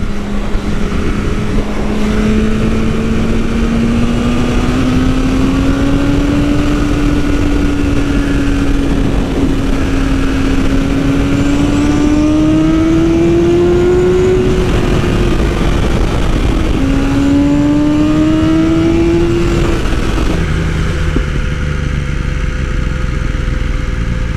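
A 2020 BMW S1000RR M sport motorcycle with a Stage 1 ECU flash drones steadily at close range, its pitch rising and falling as the throttle opens and eases off, with constant wind roar underneath.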